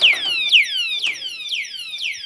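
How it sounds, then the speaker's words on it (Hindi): A smart lock's alarm sounds as the lock is shaken, a loud, rapid series of sweeping electronic chirps repeating about twice per second. "जैसे इस ताले को हिलाएगा तो इसमें बीप बजनी शुरू हुई"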